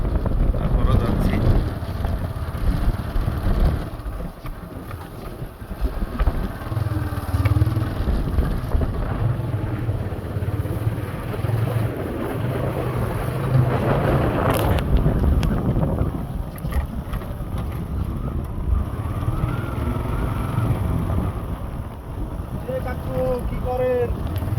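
A motorbike ride along a rough, badly broken road toward a riverbank, with a steady engine drone, wind buffeting the microphone, and bumps and rattles throughout; a person talks briefly partway through.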